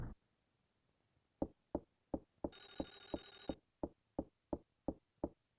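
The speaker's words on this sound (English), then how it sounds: "Telephone's ringing." A bell telephone rings in the horror game Clock Tower Rewind: a brief buzzing ring rises midway amid a steady series of sharp rhythmic knocks or footsteps, with no talking.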